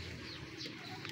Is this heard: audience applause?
no